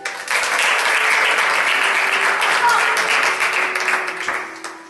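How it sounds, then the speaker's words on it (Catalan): Audience at a school musical bursts into loud, sustained applause, a dense wash of many hands clapping close by that holds steady for several seconds before thinning toward the end. "Un fort aplaudiment per ell."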